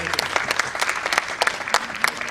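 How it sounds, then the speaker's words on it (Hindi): Audience at a tribute concert claps steadily for a couple of seconds, a dense patter of many hands with no voices over it. "उसे एक बार ताली बजाते हैं।"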